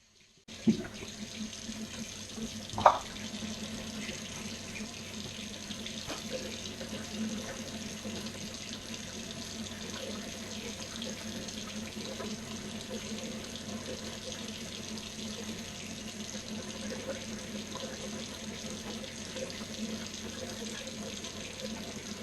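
Tap water runs steadily from a faucet into a sink while a straight razor is rinsed clean, a continuous close hiss with a brief clink near the start.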